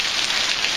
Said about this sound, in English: sometimes when you're in paradise, it rains.